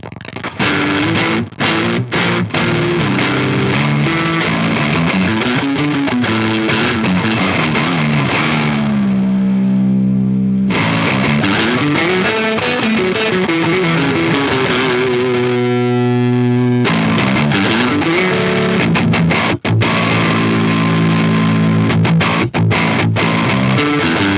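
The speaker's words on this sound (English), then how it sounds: "Then if I start moving the bit knob" Heavily distorted electric guitar chords through a Sonicake Wave Crush bitcrusher pedal, its bit knob being turned, with a gritty, lo-fi crushed texture that shifts and degrades, loud and continuous with brief gaps.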